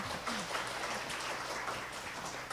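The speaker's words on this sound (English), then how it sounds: "Give applause for the presenters." Audience at an English language teaching conference claps for the presenters, a fairly soft, steady wash of applause in an echoing room.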